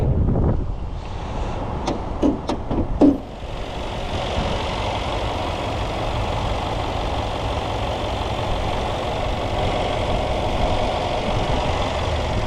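A 2016 Mercedes-Benz GL 63 AMG with its 5.5-litre AMG V8 running steadily, a low, even engine hum that holds for the whole stretch after a few brief clicks and taps at the start.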